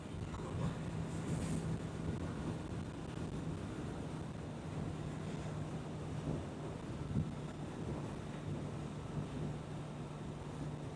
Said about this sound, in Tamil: அது எப்படி நான் வீடியோ எடுக்கவே நினைக்க காத்து இப்படி அடிக்குமா?